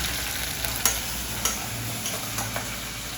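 Onion and tomato sautéing in a pan: a steady, close sizzle with a few light scraping and tapping stirs, no voices.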